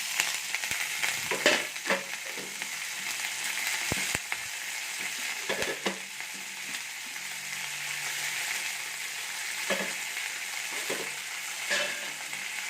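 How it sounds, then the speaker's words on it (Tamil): Curry leaves crackle and sizzle in hot oil in a kadai, a continuous bright frying hiss with sharp pops scattered throughout, close and fairly loud with no talking. "எண்ணெய் காஞ்சதும் நம்ம வச்சுருக்க கருவேப்பிலையை அப்படியே சேர்த்துக்கலாம்."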